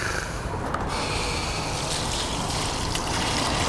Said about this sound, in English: So the plants are going to get a watering.